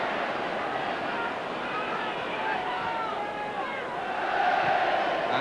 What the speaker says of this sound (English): Stewart's tackle draws applause